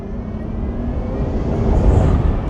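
An AMG V12 engine powering an F1-style car, 720 horsepower, driven on the Autobahn, gives a steady low engine roar that swells gently as the throttle is pressed lightly, loud and close throughout.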